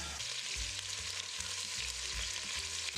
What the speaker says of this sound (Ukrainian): Обсмажую з двох сторін.